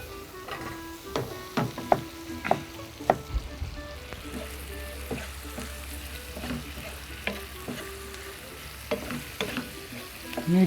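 Food sizzles in a pan while a utensil stirs and scrapes, giving irregular taps and clinks over a steady frying hiss, close and clear with no talking.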